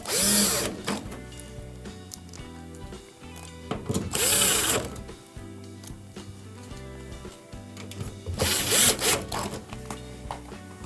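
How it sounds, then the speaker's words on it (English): A power driver runs Torx screws back into a Whirlpool washer during door latch repair. Three separate loud whirring bursts, each a second or so long, with quieter clatter and handling noise in between. "Now we can reinstall our 3 torque screws."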